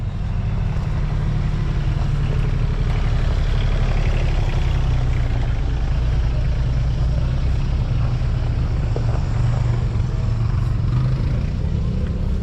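A big vintage tractor engine runs at a horsepower show, a loud, steady low rumbling drone with a dense mechanical throb that holds constant throughout, with no clear voices.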